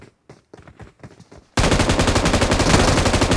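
Rapid, loud automatic gunfire from PUBG Mobile bursts in after a moment of quieter sounds, continuing as a dense sustained volley.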